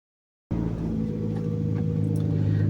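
A Toyota Alphard starts moving after a half-second of silence, its engine settling into a steady, close, low hum that builds slightly as the car drives on.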